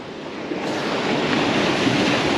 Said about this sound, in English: Got a swell coming in, so I've got to watch out really.